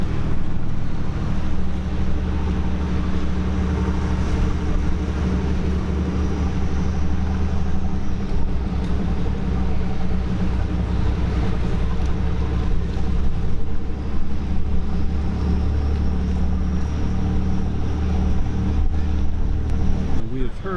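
Hatteras 58 motor yacht cruising under a bridge, its engines a steady low rumble mixed with wind and water noise, constant and close for the whole stretch.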